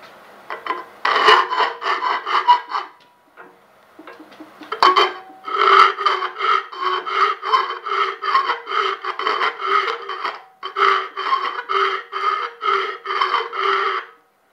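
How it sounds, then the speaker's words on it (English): A hacksaw cutting through metal, followed by filing, makes loud, rapid back-and-forth rasping strokes close by, in three rhythmic bursts separated by short pauses. "So I'm just gonna take a hacksaw and saw this out and then file it just to be done with it."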